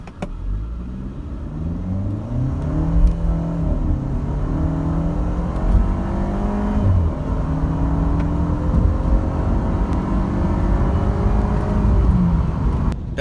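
A 2012 Mercedes SLK with a turbocharged engine accelerating in sport mode, its engine note rising and shifting through repeated pitch sweeps as it pulls hard, a steady close-up rumble and whir with no talking.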